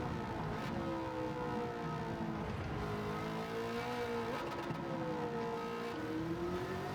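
A Corvette ZR1 C6 in Gran Turismo 7 roars at high revs, its pitch rising and dropping through gear changes and throttle lifts, loud and close the whole time with no voices.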